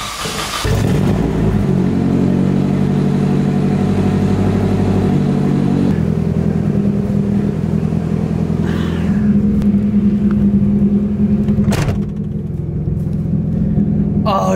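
Straight-piped Nissan S13 firing up and revving, a loud raw exhaust bark that settles into a rough idle with further blips, close and dominant, with occasional voices in the background.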